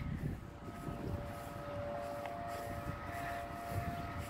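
A malfunctioning tornado siren heard distantly as a steady, faint tone, with low rumbling wind or background noise and no talking.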